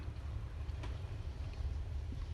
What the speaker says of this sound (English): And it's super duper windy here.